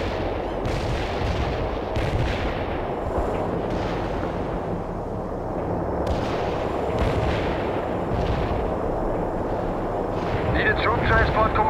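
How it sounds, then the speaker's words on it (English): Medium artillery in the real-time strategy game World in Conflict, with repeated heavy booms and explosions over a continuous low battlefield rumble and game voices. "We're ready with the artillery."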